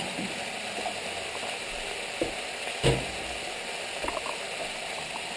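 Onions and carrots for a beef bourguignon fry in a pot on an electric hotplate, making a constant soft sizzle and bubbling with a few faint clicks and one brief louder knock partway through.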